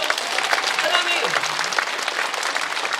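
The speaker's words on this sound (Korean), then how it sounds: "우리 주님께 영광의 박수 올리겠습니다" A church congregation at a prayer meeting applauds together, a dense, steady wash of many hands clapping close and loud, with a voice speaking over it.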